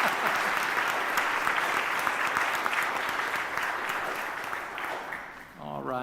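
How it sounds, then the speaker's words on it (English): Dense, continuous applause from a church convention audience in Tennessee adopting items by acclamation, many hands clapping steadily before tapering off at the end. "You just have to clap."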